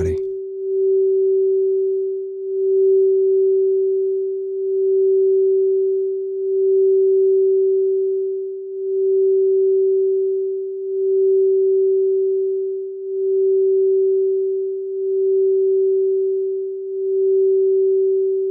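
Quartz crystal singing bowl ringing a single steady pure tone, loud and sustained with a slow gentle pulsing swell, with no other sounds.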